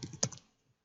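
A short burst of keystrokes on a computer keyboard, a few quick clicks with one sharper tap, faint and close, then silence.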